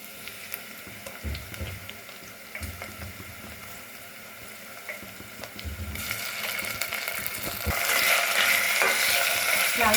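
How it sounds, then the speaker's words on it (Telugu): Ginger garlic paste frying with onions in a pan for bagara rice, a steady hiss of sizzling oil with occasional stirring scrapes, growing louder and brighter toward the end. "అల్లం వెల్లిపాయ కూడా పచ్చివాసన పోయినంత వరకు ఫ్రై చేసుకోవాలి."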